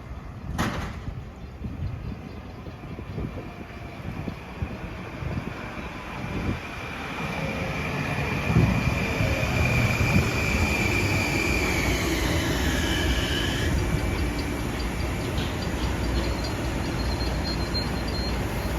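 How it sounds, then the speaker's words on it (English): A westbound LIRR M9 train to Penn Station pulls into Wyandanch station, its rumble building and holding steady, with a rising then falling electric whine and a sharp clank near the start. "we got a westbound M9 to Penn Station arriving"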